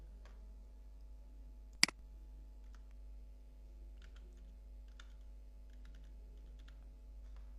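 Keystrokes on a computer keyboard tap out text in scattered, soft clicks over a steady low hum, with one louder sharp click early on.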